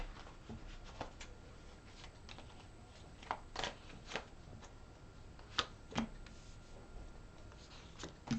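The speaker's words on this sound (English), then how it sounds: "One more shuffle for Pisces." Tarot cards are shuffled softly by hand, giving sparse, irregular light taps and flicks in a quiet room. No one speaks.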